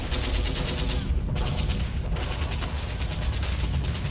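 Continuous heavy barrage of artillery fire in the World War II strategy game War Plan Orange, a dense unbroken rumble of overlapping booms and blasts at steady loudness with no clear gaps.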